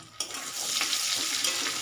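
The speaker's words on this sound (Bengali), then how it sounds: "ওই চিংড়ি ভাজার তেলে ফোড়ন দিয়ে দিয়েছি" Cumin seeds, dried red chili and bay leaf sizzling in hot leftover prawn-frying oil, a sudden hiss as they hit the pan that settles into continuous close frying crackle with a faint stir.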